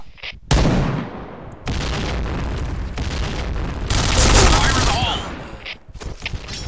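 Rapid gunfire from the first-person shooter game Point Blank, loud bursts of shots and booming blasts packed close together, with someone talking over parts of the action.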